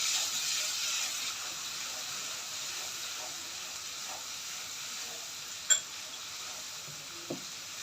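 Ginger paste frying and being stirred in a pan, a soft continuous sizzle with a couple of sharp utensil clinks near the end.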